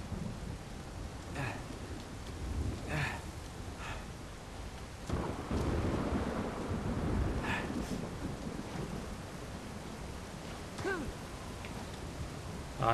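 Rain and rolling thunder in the Uncharted 4 video game, with a steady wet downpour and deep rumbles swelling in the middle, while someone talks intermittently over the storm.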